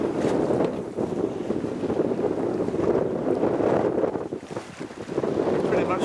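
Wind roars steadily over the sailboat Mingming II as it sails hard on a westerly breeze at sea, a loud, close, buffeting rush with the wash of water beneath and no talking.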